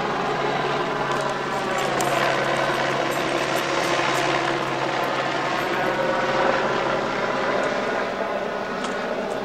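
A helicopter drones steadily and loudly nearby at the JJB Stadium in Wigan, its rotor and engine noise constant throughout with no pauses.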